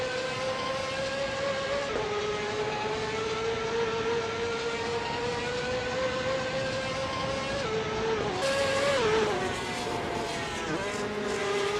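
Ferrari 355 Challenge race cars lapping a track, a steady sustained high engine whine with shifting pitch as cars pass, loud and continuous with no talk.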